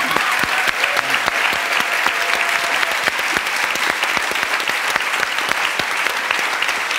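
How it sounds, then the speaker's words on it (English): Audience at a panel discussion on feminism giving sustained, loud applause, a steady crackle of many hands clapping for the full length without speech. "maybe we can just keep that applause going."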